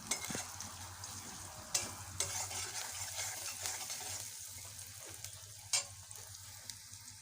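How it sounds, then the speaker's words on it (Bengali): Meat frying in a pan with a continuous close sizzle, broken by sharp knocks and scrapes of a stirring spoon against the pan, no talking. "দেখো মাংসটা প্রায় ভাজা হয়ে গেছে, লাল লাল হয়ে যাচ্ছে প্রায়।"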